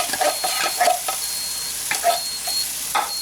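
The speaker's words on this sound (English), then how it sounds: "and just stir it around" Canned tomato soup, already thick, is stirred around in a hot skillet with a spoon. There are a few scraping strokes over a steady low sizzle, heard up close with no talking.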